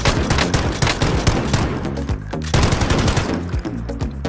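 Rapid gunfire in the video game Warzone, dense bursts of automatic shots cracking loudly and continuously in two waves, close and without talking.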